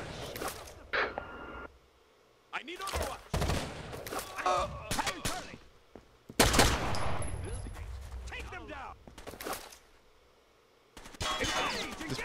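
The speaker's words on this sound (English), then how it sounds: "Pistol sounds fucking meaty" Pistol shots in Rainbow Six Vegas 2 come in sharp, loud bursts with short gaps between them. Strong bangs cluster together and mix with other gunfire and background noise in a chaotic firefight.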